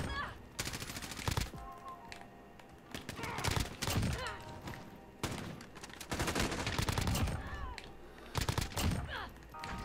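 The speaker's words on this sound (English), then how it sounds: "I get blasted by a shotgun." Rapid bursts of gunfire in a Call of Duty match, including a shotgun blast, crackling in dense, loud volleys with brief gaps between them, while someone talks over the action.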